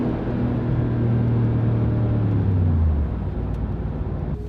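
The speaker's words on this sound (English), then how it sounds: "Very nice engine, guys." A 2017 Mercedes-Benz G63 AMG Edition 463 engine droning loudly while driving, low harmonics climbing through a gear then dropping off near the end as the revs fall, cabin perspective, no voices.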